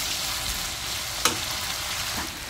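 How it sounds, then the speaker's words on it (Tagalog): Meatballs frying in a pan, a steady close sizzle with one sharp spatter pop partway through, no one speaking. "pwede na natin siyang i-fry. Bali, binalibaligtad ko lang siya hanggang sa maging brown yung sides niya"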